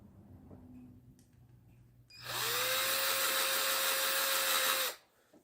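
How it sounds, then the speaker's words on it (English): A power drill spins up abruptly and whines at a steady high pitch for about three seconds, drilling a hole in a 3D-printed statue part, close and loud, then winds down into quiet. "we're just going to do our best to drill a hole here"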